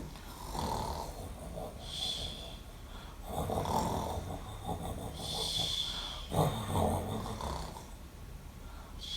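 A voice imitating snoring in several drawn-out, rhythmic rasping breaths, close and moderately loud, separated by short pauses.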